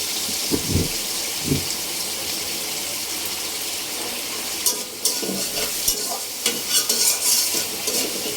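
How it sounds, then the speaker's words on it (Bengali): Fish sizzles steadily in a hot pan as a utensil scrapes and stirs now and then, with louder crackling bursts toward the end. "এখন আমি পোয়া মাছটা ভেজে নিচ্ছি, ভুনা করে নিতেছি।"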